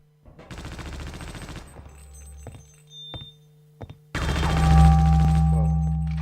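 Weapon fire in the video game Half-Life: Opposing Force, a sustained burst of shots followed by sharp single clicks and a loud, heavy blast with a lingering roar, close and without talk.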